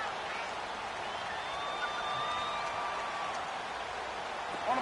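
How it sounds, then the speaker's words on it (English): Crowd applause and clapping from the sidelines in a PS4 football video game, a steady, broad wash of noise continuing under the game's ambience for the whole stretch, with no voices over it. "That's why you hear that clapping on the sidelines, right?"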